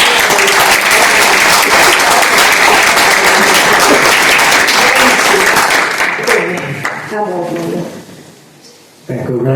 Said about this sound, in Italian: meritino tutti un applauso